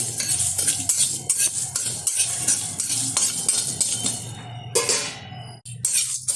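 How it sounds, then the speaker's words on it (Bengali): Spices for a sweet-sour-spicy raw mango pickle fry in a pan while a utensil stirs and scrapes it steadily, loud clinks and scrapes over a continuous sizzle, with a brief pause near the end. "মশলাটা কিন্তু ভালোভাবে ভাজা হয়ে গেছে।"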